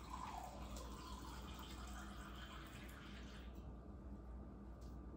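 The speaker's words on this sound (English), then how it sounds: "I need 735 grams of lukewarm water, and you want it to be filtered water" Lukewarm filtered water pours steadily into a container for sourdough bread dough, a continuous broadband splash at close range that thins and quiets in the final seconds.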